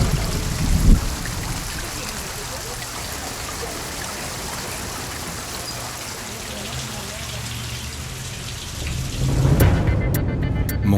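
The first rain shower at a high-altitude gold-mining area in the Ecuadorian mountains, heard as steady, dense hiss of rainfall throughout, with a few louder knocks near the start and end.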